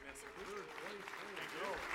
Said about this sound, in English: Round of applause for your human predictors, ladies and gentlemen.